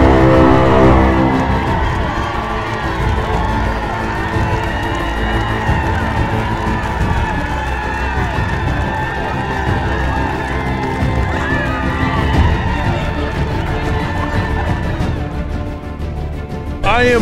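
An excited crowd cheers, whoops and shouts without pause at a golf store opening after a night of camping out, a dense, loud roar of many voices close by.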